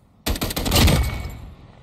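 Rifle gunfire from a Brazilian Army rifle in the Call of Duty Mobile video game, a loud close burst of rapid repeated shots over about a second that then fades out.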